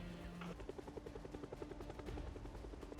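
A video game helicopter's steady rotor chop thuds close and loud, a rapid even beating over a continuous engine drone, in Project Zomboid.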